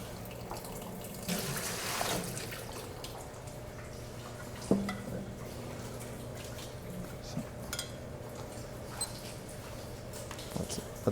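Water poured out of a graduated cylinder in a soil mechanics laboratory, a faint steady trickle and splash with a few light clinks against a quiet room background.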